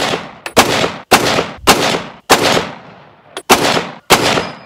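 Loud M1 Garand rifle shots fired outdoors, six sharp reports spaced roughly half a second to a second apart, each followed by a short ringing decay, with no talking.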